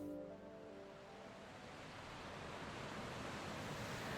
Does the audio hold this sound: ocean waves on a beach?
yes